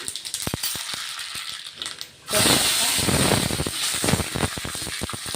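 Mustard seeds dropped into hot oil for a crisp semolina breakfast: a few scattered clicks and taps come first, then a sudden loud burst of hissing sizzle that keeps crackling steadily to the end.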